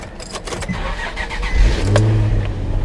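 A Nissan 350Z Nismo engine cranks briefly, catches and fires up, then settles into a steady idle, close and clear with no talking.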